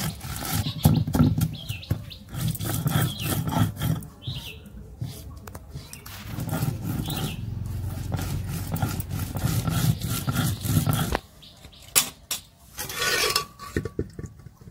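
Cumin seeds ground on a traditional grinding stone, a steady rough scraping and rubbing with rhythmic knocks, fairly loud and close, with a few bird chirps and kitchen clatter around it.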